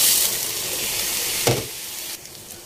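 Uncooked rice is stirred in a hot dry pan for a pop rice snack, giving a close, steady hiss and sizzle with a brief scraping stir midway.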